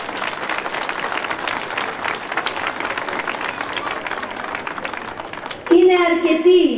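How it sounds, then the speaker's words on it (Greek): A crowd applauds candidates at a Greek municipal election campaign rally for Eordaia: sustained, fairly even clapping with crowd murmur, then a loud voice cuts in near the end. "Χειροκροτήστε τους!"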